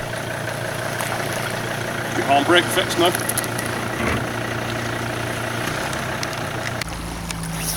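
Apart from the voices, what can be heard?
boat outboard engine idling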